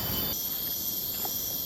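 Crickets in a Brunei jungle park trill in a constant, high, even drone that fills the morning air for a brief stretch, with no voices heard.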